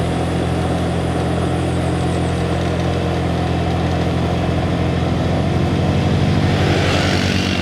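Motorcycle engine pulling hard up a steep climb on a mountain road near Gunung Bromo, a loud continuous low drone with rising strain toward the end and no talk.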